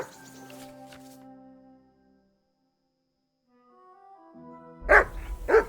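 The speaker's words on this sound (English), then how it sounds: "That barking was a pain in the ass." A dog in the Kingdom Come Deliverance 2 video game gives a couple of close, sharp barks at the end, after a stretch of sustained tonal background music that fades into near silence.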